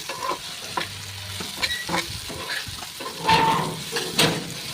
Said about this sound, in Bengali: আমি এখানে গোলমরিচ দিয়ে আলুটাকে ভালো করে ভাজবো।